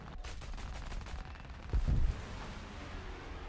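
A short burst of aircraft machine-gun fire in War Thunder during a dogfight, a dense rattling stutter that peaks briefly over constant engine drone.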